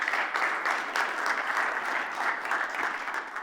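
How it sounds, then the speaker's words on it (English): A conference audience applauds the event staff, dense steady clapping from many hands that holds at a fairly even level for the whole stretch, with no voices rising above it. "So if you would just please give them a round of applause."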